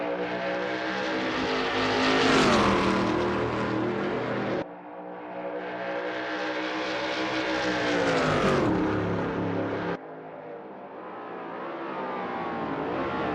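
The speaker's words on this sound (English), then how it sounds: "Every move counts now as Adam works to reel in Melero and overtake for P1." Veloce GTS-8 race cars lapping the Blackwood circuit in a racing video game, engines roaring loudly and rising in pitch through the gears, then cutting off sharply at each shift before climbing again, with no voices.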